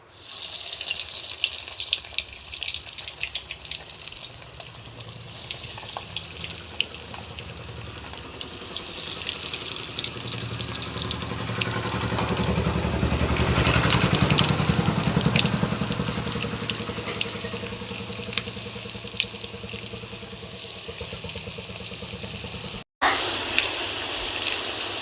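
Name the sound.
katla fish fingers frying in hot oil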